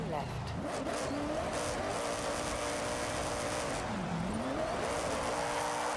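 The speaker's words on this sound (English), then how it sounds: "I'm gonna go try and get this speed trap with the purple Miata" Purple Mazda Miata driving in Forza Horizon, a continuous engine drone that rises and falls through shifts, with brief tire squeal, steady and loud throughout.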